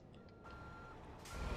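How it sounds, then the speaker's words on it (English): Reversing beeps from a Kenworth W900 truck backing through a shipyard in American Truck Simulator: a faint, steady warning tone over low engine rumble, followed by a louder broadband rush of air near the end. "As I'm speeding in reverse through a shipyard."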